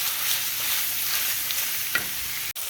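Crawfish maque choux being stirred in a pan, a steady close sizzle with faint scraping of the spoon, ending in a sharp clack near the end.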